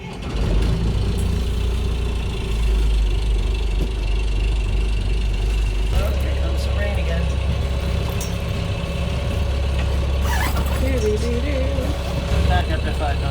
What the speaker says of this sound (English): we're going to run the engine